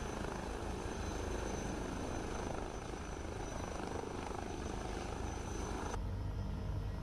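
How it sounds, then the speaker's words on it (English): A helicopter in Microsoft Flight Simulator drones steadily and loudly with a constant rotor and engine wash throughout, and the sound abruptly shifts near the end as it attempts to land. "most likely I'm not gonna be able to land this helicopter"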